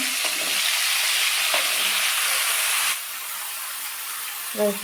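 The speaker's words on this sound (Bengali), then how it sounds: "এই তেলটার ভিতরে আমি একটু ফোড়ন দেব" Whole spices hit the hot oil left after frying fish heads, producing a strong, steady sizzling hiss that eases down partway through, with a few utensil clinks and a short voice near the end.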